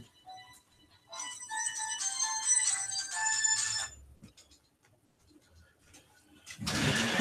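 A phone ringtone sounds for an incoming call, a bright melodic tune repeating for about three seconds at moderate loudness, then stopping, followed by quiet room noise and a brief burst of rustling handling at the end.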